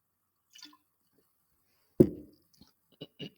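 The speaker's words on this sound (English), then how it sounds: "I'm going to take just a quick sip of water." A quick sip of water taken close to the mic: a faint sound, then one sharp slurp or gulp, followed by small soft mouth and swallowing noises in quiet surroundings.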